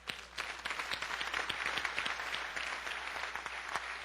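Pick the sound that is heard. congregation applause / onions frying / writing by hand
congregation applause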